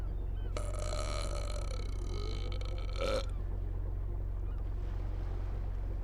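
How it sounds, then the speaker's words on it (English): A ship's captain in the game Inspector Schmidt – The Ebbing lets out one long, loud, drawn-out burp. A constant low engine-like drone runs underneath, and faint wind and water noise continues after the burp ends. "The captain burps audibly."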